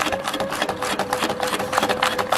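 A sewing machine runs a free-motion stitch across fabric tags, its steady fast needle chatter whirring close and continuous, with a faint motor tone underneath and no speech.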